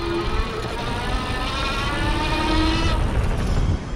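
Electric motor of a Qualisports Beluga e-bike ramping up under throttle, a rising tonal whine that climbs smoothly over a few seconds above a steady rolling rumble.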